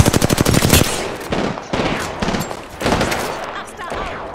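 Rapid automatic gunfire in Apex Legends, a fast burst of loud repeated shots at the start, then scattered shots and bursts at varying distances.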